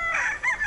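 A rooster crows on a farm in a single close, loud call, its strained tone rising and holding before a short dip and a second surge at the end, with no voices present.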